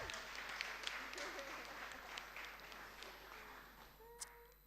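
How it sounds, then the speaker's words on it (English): Scattered audience applause at Creative Coffee Week 2021, a live coffee industry event, thinning and tapering off, with a few louder individual claps, a whistle-like tone and faint room murmur as the clapping dies down. "Let's give a big round of applause for Creative Coffee Week"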